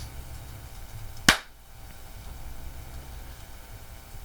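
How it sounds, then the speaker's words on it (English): A single sharp hand clap rings out once, crisp and fairly loud against a quiet room hiss, with nothing else around it. "Clap it up."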